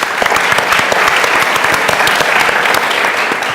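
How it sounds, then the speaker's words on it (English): Conference audience applauding after a speaker is introduced, loud, continuous clapping from a large crowd with many individual claps audible. "A round of applause, please."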